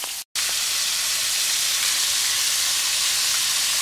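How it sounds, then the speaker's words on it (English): Pieces of pounded round steak fry at medium heat in a big skillet, a loud steady sizzle and crackle after a brief cut near the start, with no talk. "They're going to be fried at medium heat."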